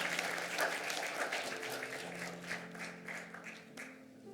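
A church congregation applauds at a retirement thanksgiving service for ordained deacons, a steady wash of many hands clapping for several seconds at moderate volume, with organ or keyboard tones sustained underneath.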